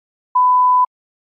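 One steady electronic test beep, about half a second long, signals the start of speaking in a TOEFL exam; the pure mid-pitched tone sounds alone against silence.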